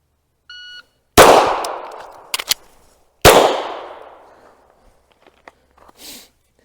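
Two loud, close pistol shots about two seconds apart ring out during an air marshal shooting qualification in snow, each cracking sharply and decaying into a long echo, with a short electronic timer beep before the first and small clicks between.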